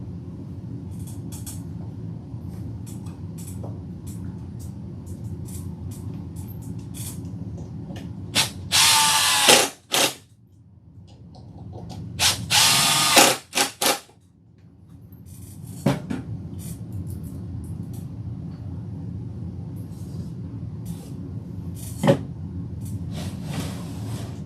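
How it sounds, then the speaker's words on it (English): A power drill drives screws into wood while building a budget model railway layout kit, with two long, loud bursts of motor whine and a few short clicks and knocks over a low background hum. "Why is screwing wood together so much fun?"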